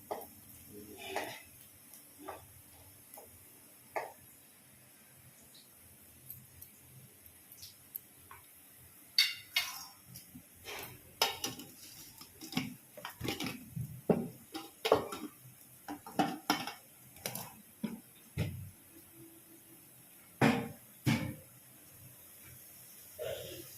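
Kitchen utensils and dishes are handled at home, with scattered light clinks, taps and clatters of metal and ceramic at irregular intervals, fairly quiet against a faint background hiss.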